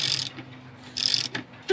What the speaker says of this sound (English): So now I'll just kind of tighten them up piece by piece, make sure everything is looking secure.